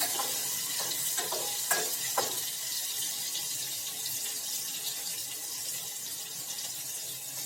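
Food sizzles steadily in hot oil in a home kitchen, with a soft continuous crackle and a few brief clinks and scrapes early on, close and without talk.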